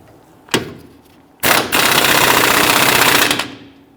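A power tool tightening a lower control arm to knuckle bolt on a 2010-2019 Ford Taurus, one short burst, then a loud sustained rattling run of about two seconds that cuts off.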